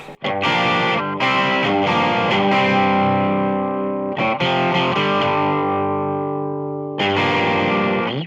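A Stratocaster on its bridge pickup, played with gain through effects, rings out in sustained distorted chords and notes with short pauses between phrases, loud and close, no talking.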